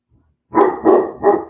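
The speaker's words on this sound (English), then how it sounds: "Those dogs." Three loud, close barks from dogs at home, evenly spaced in quick succession after a moment of quiet.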